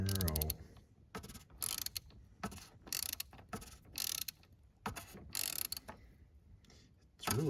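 A ratchet wrench clicks in repeated bursts while turning out the plastic-bottomed oil filter housing on a 2018 Chrysler Pacifica during an oil change, each burst of close metallic ratcheting separated by short pauses.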